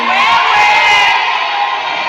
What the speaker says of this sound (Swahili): Kelele ya kwanza kwa wapendanao yake.